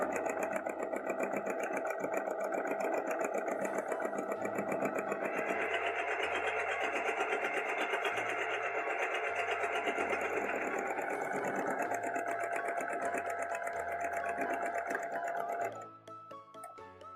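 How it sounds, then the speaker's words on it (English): Sewing machine running a medium-length straight stitch to close a dress sleeve, a steady loud mechanical whir with rapid rhythmic clatter held for about fifteen seconds before stopping abruptly. "then stitch the sleeve closed, leaving 5/8 of an inch of seam allowance"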